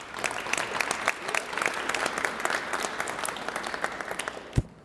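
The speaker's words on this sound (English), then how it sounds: "let's give them all one big round of applause" A sustained round of applause from the audience at a university business competition, many hands clapping steadily at moderate level, with one sharp thud near the end.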